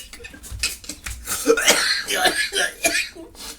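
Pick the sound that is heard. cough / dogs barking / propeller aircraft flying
cough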